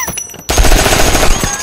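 Gunfire in an action film scene: a sudden loud burst of rapid automatic shots cuts in after a quieter moment and keeps rattling densely at close range.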